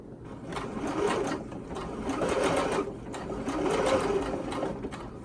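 A sewing machine stitches a knit neck binding in three short bursts of steady mechanical whirring, each pausing briefly between runs, close and moderately loud with no talking.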